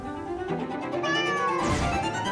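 A cat meows in a drawn-out, rising and falling call, close and clear, part of a farm colony of around 700 cats.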